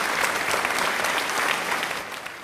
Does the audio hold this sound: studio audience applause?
yes